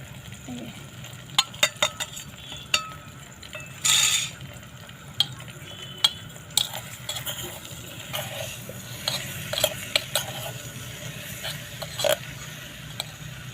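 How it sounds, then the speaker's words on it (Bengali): Jujube (kul) pickle being stirred in a pan, with sharp, irregular clicks and scrapes of a utensil against the pan over a soft, steady background hiss. "একটু নেড়ে চেড়ে নিচ্ছে"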